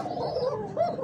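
Kokata pigeons in a pigeon market give a low cooing call with a gurgling quality, fairly close and steady across the moment, with a swell near the end and no talk over it.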